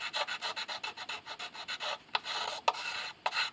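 A blade scrapes hardened glue off the wooden fingerboard of a 1/10 size violin in quick, rhythmic rasping strokes, close up and with no talking. A few sharper scrapes come toward the end.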